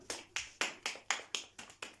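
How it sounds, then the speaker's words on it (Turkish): Classmates clap together in a classroom: eight crisp, evenly spaced claps in a steady rhythm, fairly quiet and with no talking over them. "Bir alkış alırım."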